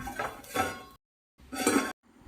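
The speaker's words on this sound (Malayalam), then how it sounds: "ഇനി ഇത് നല്ലപോലെ തിളയ്ക്കുന്നവരെ ഒന്ന് അടച്ച് വയ്ക്കാം" A lid goes onto a pot of simmering prawn mango curry: two short, close clattering knocks separated by silence.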